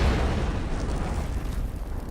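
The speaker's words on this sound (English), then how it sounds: "There are a lot of explosions for two people blending in." Explosions in a Star Wars film scene produce a loud, dense rumbling roar with no pauses, heaviest at the start and easing slightly over two seconds.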